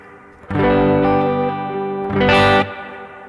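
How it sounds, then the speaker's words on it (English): Sustained guitar chords played through a big modulated reverb effect ring out with a lush, shimmering reverb tail that wavers and swirls, swelling brighter near the end before fading; no talking. "This is just a big modulated reverb."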